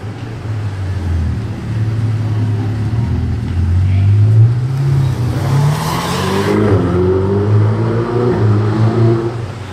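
A Pagani Huayra crossing a Ferrari 488 Pista on a Monaco street, with a steady loud engine drone that swells and shifts in pitch as the cars pass near.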